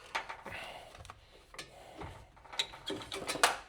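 Ratchet wrench clicks and metallic taps while bolts on a Ford F150 Powerboost inverter mount are loosened, coming in short irregular bursts at close range with small handling clatter between them.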